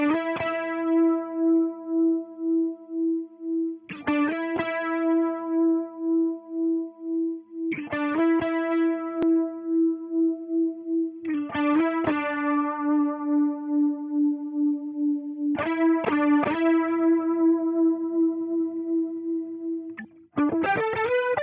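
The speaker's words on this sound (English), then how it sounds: "when we listen to the width knob increase, you'll hear those additional copies of the harmony being pushed outward in the stereo field" Guitar harmony run through a Multivoicer effect with the width knob turned up, spreading unison copies across the stereo field; sustained chorused tones in repeated phrases with brief attack clusters, clean and alone without speech.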